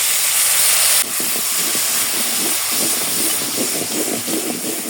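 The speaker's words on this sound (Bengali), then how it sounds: "লবণ হলুদের গুঁড়া মশলার গুঁড়া সামান্য একটু জল দিয়ে ভালো করে কষিয়ে নেব" Ground spices with salt and turmeric sizzle and hiss in a frying pan after a splash of water goes in, starting as a steady broadband hiss that gives way to dense crackling and popping close by.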